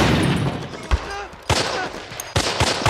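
War-series gunfire from Band of Brothers plays in a dense, loud battle bed with sharp shots and bursts cutting through at intervals, the roar nearly continuous throughout.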